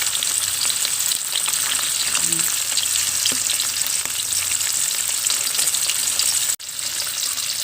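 A single wide bilong-bilong fish frying in oil, a steady close sizzle and crackle running throughout, with a brief dip near the end.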